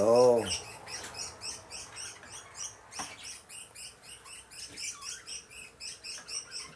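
Small birds chirp in quick, repeated high twitters throughout, fairly faint and steady, with a brief low voice at the start.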